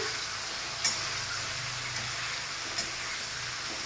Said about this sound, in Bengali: কপিটাকে আমি ভালো করে ভেজে নিচ্ছি উল্টে পাল্টে।